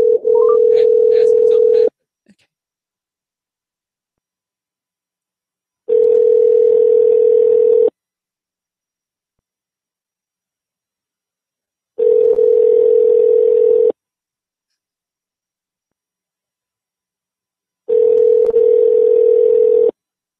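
A telephone call is placed to call back: a steady dial-type tone repeats in long bursts about every six seconds, loud and clear with silence between, as an outgoing call rings through.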